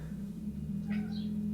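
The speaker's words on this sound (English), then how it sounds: "You hear a chirper, a cat chirping." A brief high chirping trill from a cat watching birds outside rises over a constant low hum, quick and fairly faint.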